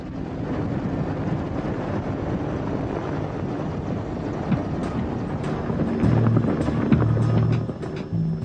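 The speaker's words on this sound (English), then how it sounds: "An Mi-24 assault helicopter captured from Iraqi troops in the Gulf War." A captured Mi-24 Hind assault helicopter, its rotor and turbine noise a steady, wind-buffeted drone at moderate distance, swelling slightly louder near the end.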